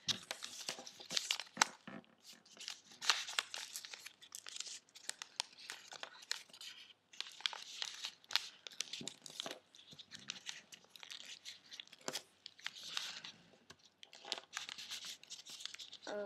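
Paper being folded into an origami crane, with crisp, repeated crinkling and creasing rustles through the passage, close and fairly quiet, broken by brief pauses.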